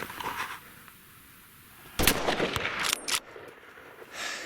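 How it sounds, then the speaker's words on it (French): A single sharp rifle gunshot fired during a wild boar hunt in Tajikistan, loud and close, with a brief crack and rolling echo that die away into quiet outdoor background. "je le tire comme ça, je le tire"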